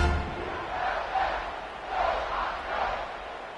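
A home crowd at a college football game roars in waves of cheering and chanting, a dense, continuous wall of voices from a stadium.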